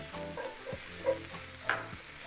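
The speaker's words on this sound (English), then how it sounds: "Here comes our shallots. We're going to put the shallots in for about a minute." Shallots frying and sizzling in hot oil in a pan while being stirred, a steady close crackle with occasional scraping clinks from a utensil, no talking.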